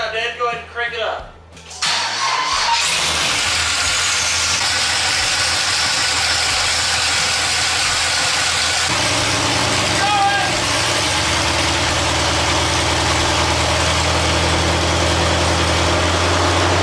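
An LS-swapped Mustang with a 4L80E transmission cranks briefly, catches and settles into a loud, steady, rumbling idle that runs close and continuous to the end.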